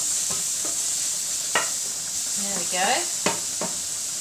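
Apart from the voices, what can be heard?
mushrooms frying in a pan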